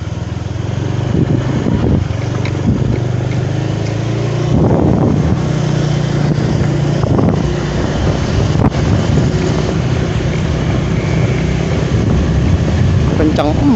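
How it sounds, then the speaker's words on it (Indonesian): A motorcycle rides fast at night on the way to a cemetery, with a steady low engine drone and strong wind rush across the mic, while people talk over it now and then. "Kencang emang ya ini motor."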